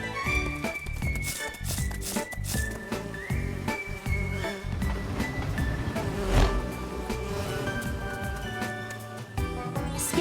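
Cartoon bees buzz in an animated children's episode about saving bees, a wavering drone woven through busy background music and effects that run continuously for about ten seconds.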